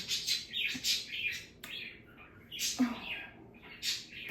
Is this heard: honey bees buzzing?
no